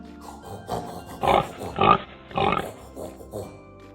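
A voice imitates a pig with a series of rhythmic grunting snorts, several short oinks in a row, close and clear.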